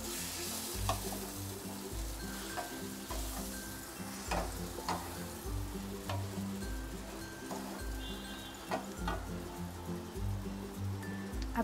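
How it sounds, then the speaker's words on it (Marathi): Egg rice with onion is stirred in a hot pan, with a regular rhythm of spatula scrapes and clacks over a continuous sizzle, close and steady, with no speech. "आता हे सगळं बघा मी मिक्स करून घेते"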